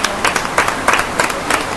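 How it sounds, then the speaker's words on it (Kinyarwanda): At a church celebration, a small crowd claps together in quick bursts, with loud, close claps in an uneven rhythm and no talking. "Duha Imana yacu amashyi."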